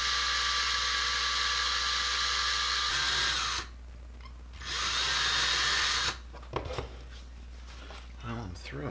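A power drill whines steadily at close range, drilling into a 1969 BMW Matchbox die-cast toy car, cutting out briefly and restarting, then stopping with a few clanks and handling noises near the end.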